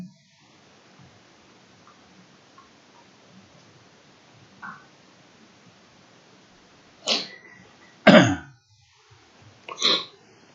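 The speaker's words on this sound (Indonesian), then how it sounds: "sorry saya batuk." A person coughs during a medical lecture on infectious skin diseases: a faint cough, then three sharper, louder coughs in quick succession near the end, with quiet room tone between them.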